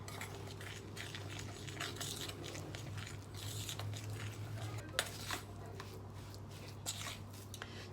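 Honey being mixed into gingernut biscuit dough in a bowl, with soft, faint clicks of a utensil against the bowl and quiet sticky squishing over a low steady hum.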